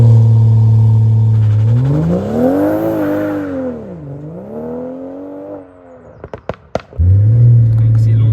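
A BMW M240i F22 with its B58 engine revs hard against the brake on launch control, the pitch sweeping up and down in loud waves, then a few sharp clattering bursts as the wheels spin before the engine note returns.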